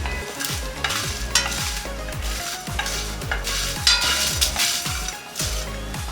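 Coriander seeds stir-fried in a hot pan for a chicken fry: a loud, steady sizzle with rhythmic scraping of a spatula against the metal, repeated stirring strokes throughout and no talking.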